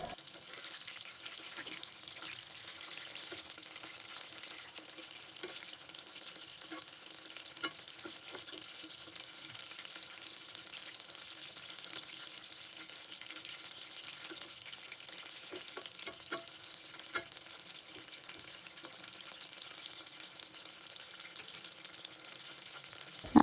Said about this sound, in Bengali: এবারও ভেজে তুলে নেব।